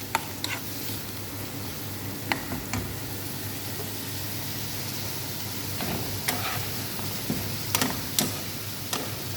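Arabic dal with pumpkin cooks in a pan, a steady close sizzle broken by irregular sharp clicks of a spoon stirring and scraping against the metal.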